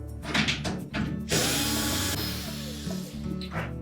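Power drill backing out screws from the back panel support of a Whirlpool washer, with bursts of close, loud whirring and ratcheting, including one long sustained run in the middle.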